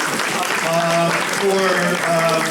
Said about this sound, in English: we really need to give our host, Aaron Carter, a really big applause